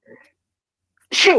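A single sneeze bursts out near the end after a short quiet gap, close and fairly loud, with a brief murmured word just before it.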